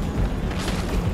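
A starship explosion in No Man's Sky: a short, deep, rumbling boom close by that fills the brief moment without talk.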